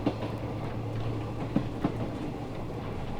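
A train runs along the rails near Boseong, South Korea, a steady close rumble broken by a couple of sharp wheel clacks.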